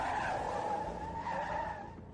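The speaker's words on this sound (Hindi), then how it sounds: "अचानक गाड़ी रुकी" A police van brakes suddenly and skids to a stop, with a loud, continuous tire screech that holds steady and then fades slightly toward the end, with no voices.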